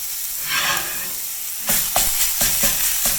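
Green onion browning in a pan beside sausage, a loud close hiss and sizzle that swells, then is broken by several quick stirring scrapes in a rough rhythm.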